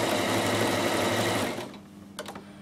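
A Bernette Rome 3 sewing machine sews a tight satin stitch with a fast, steady, close mechanical whir that stops abruptly, leaving a few faint clicks.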